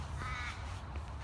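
A single crow caws once, a hoarse drawn-out call at middle distance over a faint outdoor background, brief and unaccompanied by speech.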